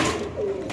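Pigeons at a busy pigeon market coo in a brief low murmur, a couple of soft rolling calls close by over a constant crowd hum.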